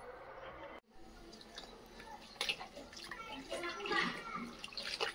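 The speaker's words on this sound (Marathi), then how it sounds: "हे बघा मंडळी, अशी भाजी स्वच्छ धुवून घ्यायची आहे।" Safflower greens are washed by hand in water, making irregular splashing and swishing that grows busier toward the end, with a brief drop to near silence early on and faint voices in the background.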